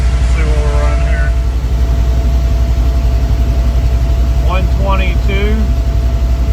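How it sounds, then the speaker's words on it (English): A Pontiac Firebird idles with its A/C blower pushing air across the condenser, giving a loud, steady low drone throughout while someone speaks briefly over it. "it's obviously pretty noisy right now, and everything, the car running and the blower going across the condenser like they recommend"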